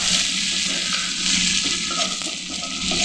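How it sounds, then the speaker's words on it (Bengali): Dried fish, onion and garlic frying in a pan, giving a loud, steady, hissing sizzle that continues without a break throughout. "পেঁয়াজ রসুনটা এই যে ভালো করে ভাজতে হবে।"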